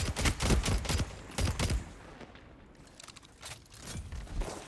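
A rapid-fire scout rifle in a Destiny Crucible match cracks off quick bursts of close, punchy shots, pausing briefly before more scattered shots and footsteps follow.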